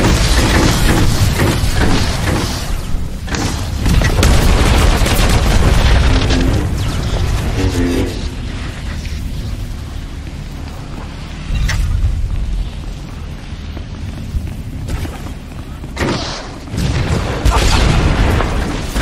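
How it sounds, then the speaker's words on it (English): Explosions in a multiplayer video game operation, The Dread Fortress, rumble continuously with heavy booms, crackling debris and layered battle effects filling the whole span, loud and dense. "Lot of explosion right there."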